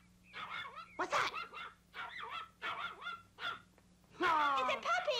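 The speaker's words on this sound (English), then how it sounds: "It's a puppy!" A run of short, high-pitched yaps and yelps in quick bursts, ending in a louder excited cry, like a small puppy barking close by.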